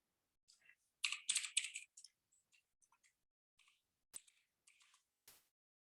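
Quick bursts of computer keyboard typing, close and crisp: a dense flurry of keystrokes followed by sparse scattered taps, with silence in between.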